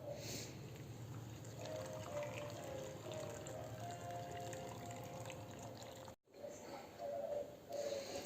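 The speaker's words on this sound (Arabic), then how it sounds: "هنا دابا راه عندي الماء درتو حتى تغلى، ها هو حتى تغلى، وبحال غير دفا شي شويه غادي نخوي عليه مزيان حتى كيتغطى لينا الحامض" Hot boiled water pouring steadily over lemons, a continuous watery rush with a brief break before it resumes, with no talking over it.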